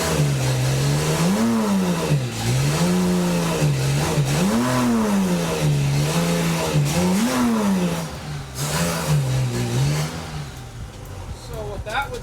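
A 35-year-old Honda Goldwing motorcycle engine, running lean after a shot of carb cleaner, revs up and down in repeated swells, rising and falling several times at close range while someone talks over it.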